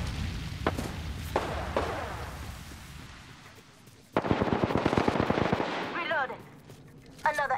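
Gunfire in the video game Apex Legends: scattered single shots, then a loud rapid burst of automatic fire midway and another burst at the end, with in-game voice callouts between.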